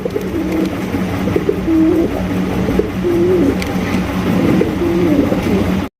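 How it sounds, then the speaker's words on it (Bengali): Bombay pigeons coo repeatedly in low, rolling phrases, close by, over a steady background hum and faint chatter. "বন্ধুরা এখানে রয়েছে একজোড়া বোম্বাই কবুতর"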